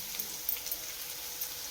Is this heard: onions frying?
yes